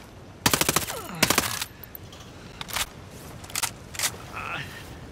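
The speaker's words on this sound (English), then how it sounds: "Keep shooting that guy so he don't come towards us." Bursts of automatic gunfire in the video game Ghost Recon Breakpoint during a firefight, with two long rattling volleys up front followed by scattered single shots and short bursts, loud and close, under occasional talk.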